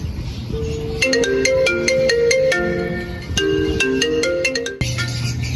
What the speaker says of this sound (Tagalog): Miel, tumatawag yung mama mo.